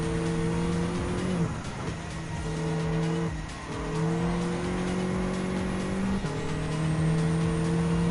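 Race cars in Gran Turismo 7 during a front-wheel-drive race, including a Diaz Automobiles DS3 Racing: a constant engine drone rises and drops through gear shifts, with tire squeal layered over it.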